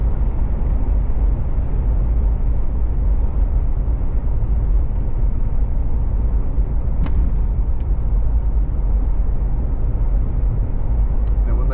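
Steady low rumble of a heavy vehicle rolling past nearby, constant and loud throughout with a faint brief click midway.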